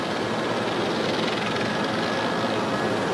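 JetBlue airliner landing on a runway with its nose landing gear jammed sideways, a steady, loud broadband roar of engines and tires scraping the pavement, continuous and unbroken with no voices.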